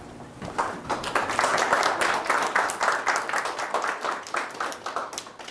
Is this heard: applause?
yes